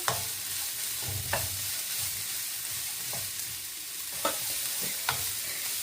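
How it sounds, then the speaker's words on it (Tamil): Curry chillies sautéing in a pan for egg idiyappam kottu, a soft steady sizzle under occasional sharp scrapes and taps of a spatula stirring, close and fairly quiet. "இந்த கறிமிளகாயை போட்டுக்கொள்ளுறேன் போட்டுட்டு இதையும் நல்லா வதக்கி கொடுப்பேன்"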